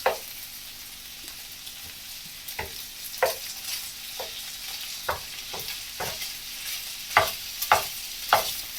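Sausages sear in a frying pan for fried cabbage and sausage: a steady sizzle runs throughout, broken by a series of sharp clicks and scrapes as they are turned, with no talking.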